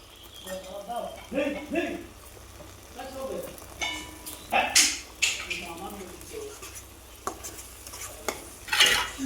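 Cow's milk being stirred into prawn malai curry in a pan, with intermittent spoon scrapes and clinks against metal and a low simmering sizzle, while a person talks over it.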